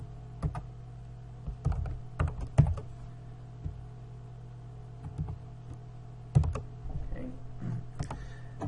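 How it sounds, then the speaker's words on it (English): Typing on a computer keyboard, with short bursts of crisp, close key clicks separated by pauses, over a faint steady hum and no talk. "let me just type it in here."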